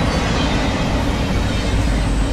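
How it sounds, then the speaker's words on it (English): A Ferromex EMD SD70ACe locomotive hauls a freight train of empty cars close by, making a loud, steady, broadband rumble and rattle that continues without a break. "If you're sleeping, you just missed that train."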